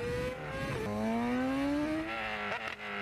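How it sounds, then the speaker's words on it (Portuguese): Honda Transalp motorcycle running a straight-pipe exhaust, its engine note rising steadily as it revs through a gear, loud and close, with a rough break-up near the end. "Olha os pipocos que a moto dá"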